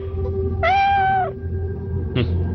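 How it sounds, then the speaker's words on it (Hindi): A cat gives one drawn-out, close and clear meow, followed by a brief second sound, over a low indoor hum. "बिल्ली, इसी ने पहले भी आवाज की होगी पक्का"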